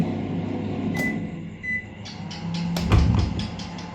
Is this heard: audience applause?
no